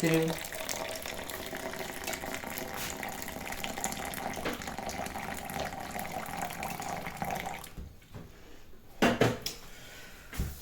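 About 200 ml of hot water runs and splashes steadily into a container for several seconds, stops briefly, then a few clinks and a final trickle follow.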